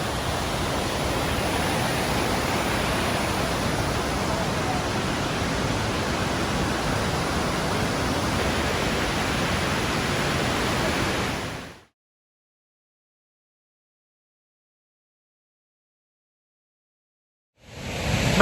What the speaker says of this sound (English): Just down here we see the next waterfall, which I think is Cascada de Cueva,